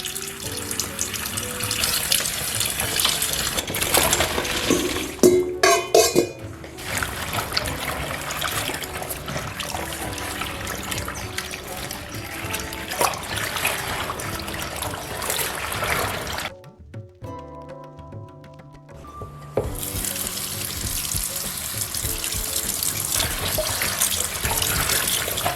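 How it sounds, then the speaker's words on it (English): Fresh sorrel being washed in a kitchen sink under a running tap with salted water, a steady close rush and splash of water that briefly drops to a quieter trickle before the full flow returns. "I'm going to be washing it in my sink, so it gives me a lot more room to wash it."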